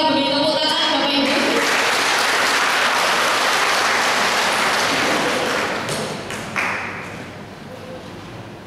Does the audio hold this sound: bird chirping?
no